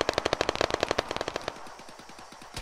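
Rapid automatic gunfire from the Arma 3 battle royale game cracks in a quick burst, then continues as fainter, more distant shots.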